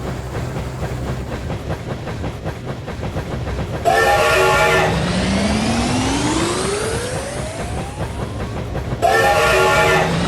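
Racing trains in the Dinosaur Train video game: continuous clattering rail rhythm with two loud whistle blasts, the first followed by a long rising tone as the train speeds up, loud and close with no talking.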